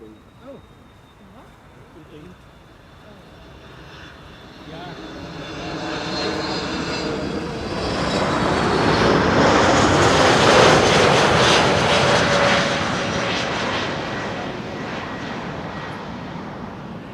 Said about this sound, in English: This is KLM flight 1002, A321neo